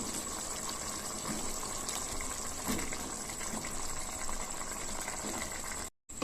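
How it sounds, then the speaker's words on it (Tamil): Eggplant pieces, wet from soaking water, go into a pan of softened onion and tomato, giving a continuous watery hiss and bubbling sizzle up close, with a brief drop-out near the end. "இப்போ இது கூட தண்ணியில் கட் பண்ணி போட்டு வச்சிருக்கிற கத்திரிக்காவை சேர்த்துக்குவோம்."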